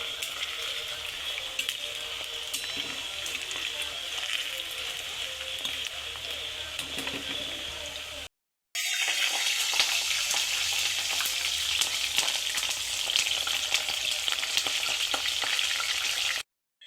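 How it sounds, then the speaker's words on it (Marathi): Green chillies frying crisp in hot oil in a pan, giving a loud, continuous crackling sizzle that breaks off for a moment halfway and then resumes just as strongly. "मी ह्या 1-2 मिरच्या तळून घेते छान अशा खरपूस"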